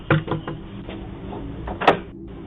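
A door swings shut on a doorbell camera, with a few faint thuds and then a sharper bang near the end, captured as thin, low-fidelity sound.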